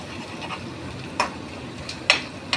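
Onions fry in a pan with a continuous soft sizzle, broken by a few sharp scraping clicks as a spatula stirs them close up.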